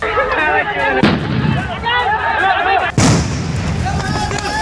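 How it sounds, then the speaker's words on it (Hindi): Police fire shots into the air along with tear gas during a clash outside a police station. Two loud, sharp bangs about two seconds apart cut through a dense, noisy crowd scene, with a voice talking over it. "पुलिस वालों ने भी आंसू गैस के साथ हवाई फायरिंग की"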